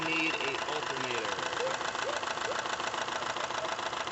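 A truck engine idles nearby with a loud, abnormal knocking beat that stays steady and repetitive throughout, and a voice talks over part of it.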